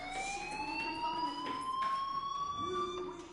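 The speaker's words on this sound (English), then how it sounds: "Hey, do you hear that fire alarm?" Fire alarm in the video game Life is Strange, a steady rising electronic siren-like wail that sweeps slowly upward, moderately loud over a faint indoor background.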